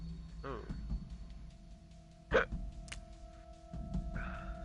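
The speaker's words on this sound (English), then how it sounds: "Hiccups suck." A single sharp hiccup, quick and fairly close, cuts through a low murmur of voices and background hum at an online charity gaming stream.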